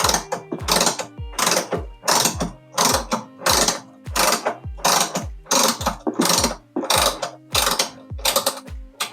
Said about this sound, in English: So here we have a ratchet wrench. And there you can see the bolt coming out.